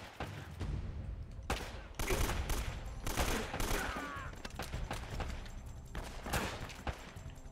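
Blind-fire gunfire in Uncharted: Drake's Fortune, a run of loud, rapid shot bursts in quick succession that carry on through most of the stretch, up close and dense, with no talk over them.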